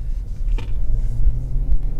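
A 2019 Dodge Charger GT rolls along the road, heard from inside as a steady, loud low rumble of engine and tires with no talking.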